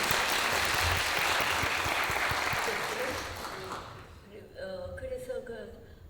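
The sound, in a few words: applause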